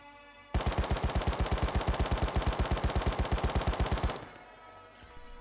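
LR assault rifle fired in full auto in the game Rust, a rapid, loud, evenly spaced burst of about four seconds before it stops, heard alone without talk.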